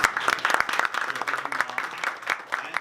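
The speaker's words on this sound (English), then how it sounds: "let's give another round of applause" A small breakfast-meeting audience claps steadily after a presentation, a scattered patter of many hands that stays even throughout.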